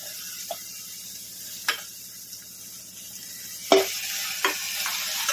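Tomatoes sauté in a pan for sambar, a soft steady sizzle broken by several sharp stirring clatters, the loudest near the middle and a couple more toward the end.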